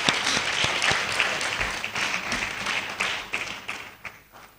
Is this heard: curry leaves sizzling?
no